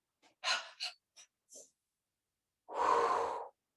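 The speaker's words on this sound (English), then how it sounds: "Big breathing." Deep breathing close to the microphone: a few short, sharp breaths in a quick uneven series, a pause, then one long, loud exhale.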